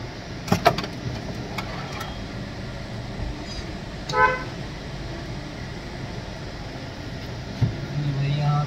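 A car rolling into a Kia service centre: low engine hum steady under the scene, with a couple of short horn toots and brief clicks, while someone talks over it.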